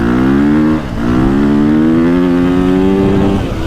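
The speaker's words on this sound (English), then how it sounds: "Now as you rev it, it just kind of just keeps pulling." A 2025 KTM 350XCF dirt bike engine revs steadily on wet gravel offroad, a loud, close, continuous buzzing drone that dips briefly and then climbs again in pitch.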